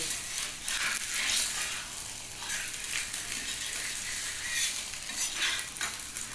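Egg paratha frying on a hot oiled tawa over low flame, a steady bright sizzle running throughout with slight swells and no voices.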